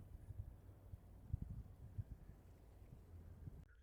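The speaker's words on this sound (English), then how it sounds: "I know the wind is blowing, I'll try and cover the mic" Wind blowing across a muddy beach shore beside a pier, buffeting the microphone as a low, uneven rumble with gusty bumps, steady and moderately quiet throughout.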